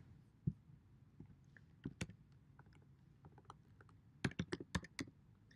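Light typing on a computer keyboard, with a few scattered keystrokes and then a quick cluster of clicks near the end, close and quiet with no talk.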